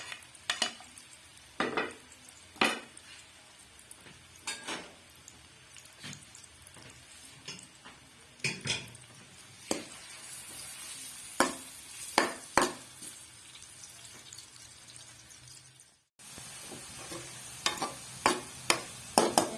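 Chopped onions fry in a pan for a dal masala, a steady sizzle under repeated scrapes and clinks of a stirring spoon against the pan, close and fairly loud, with no talking.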